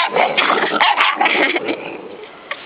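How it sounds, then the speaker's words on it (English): Small dogs growling, yipping and snarling at close range in a busy, continuous tussle, with short whimpers mixed in. "This is what happens when puppies play. They snark at each other."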